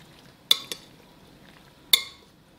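Salad tossed with a white dressing in a bowl, heard as a few sharp clinks of a utensil against the dish, two close together and one more a moment later, over quiet background with no voices.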